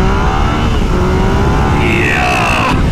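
A Yamaha XSR 900 motorcycle accelerates hard, its engine note rising steadily through a gear under heavy wind rush, then dropping with a shift before climbing again, loud and close.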